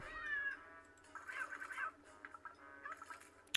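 A cartoon cat meows several times in the Cats Cannon video game, short high mews spread over a few seconds amid quiet game sounds.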